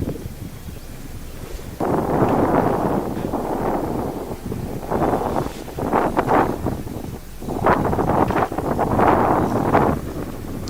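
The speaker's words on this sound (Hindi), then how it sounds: "सुबह से चल रही तेज हवाओं ने गंगानगर वासियों को थोड़ी उमस से राहत दी है।" Strong wind blowing outdoors in Ganganagar, roaring in heavy gusts that swell and fade over a constant rushing base, buffeting the microphone loudly with no speech.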